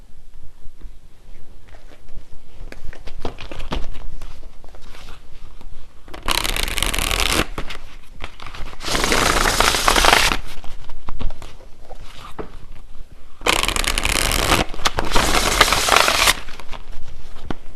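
Tarot cards shuffled by hand, three bursts of crisp riffling and flicking, close and fairly loud, with quiet room noise between them and no talk.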